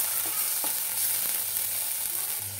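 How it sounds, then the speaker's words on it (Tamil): Nuts frying in ghee in a kadai, a steady close hiss and sizzle with faint bubbling crackle throughout, no voices. "नट्स पोट्टु वरुत्तु एडुत्तुक्कलाम"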